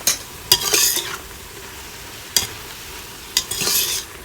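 Garlic, mushrooms, onions and browned sausage frying in a pot for spaghetti sauce, with a steady soft sizzle and three sharp scraping stirs of a utensil against the pot, each followed by a louder burst of frying.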